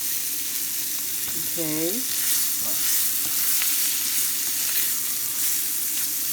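Shallots sizzle steadily in a pan of sautéed red potatoes, a constant close frying hiss with a short stir and a brief spoken word.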